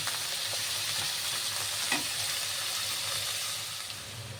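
Something fries steadily in a pan before rice goes in, a soft, even sizzle with a brief clink partway through, easing slightly near the end.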